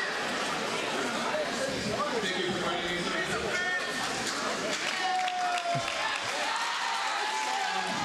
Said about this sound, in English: Nice round of applause, these two fighters